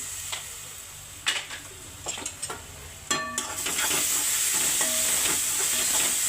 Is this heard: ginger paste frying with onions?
yes